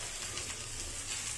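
Alu vadi, rolls of colocasia leaf, fry in hot oil with a steady, dense hiss and crackle that holds at an even level from start to finish, with no voices.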